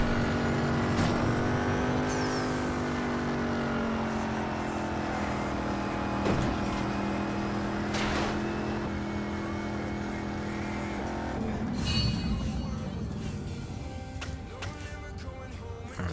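Engine of an untuned BMW M5 in the racing game Need For Speed No Limits, a steady loud drone that climbs in pitch through the gears, with shift dips around the middle and near the end, continuous and close throughout.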